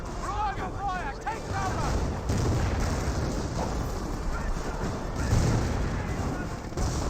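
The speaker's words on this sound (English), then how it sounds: "Fireflies getting some great hits there on the Panther" Tank cannon fire from Firefly tanks striking a Panther in Company of Heroes, with heavy booms and rumbling battle noise layered densely throughout, and a voice talking over the combat.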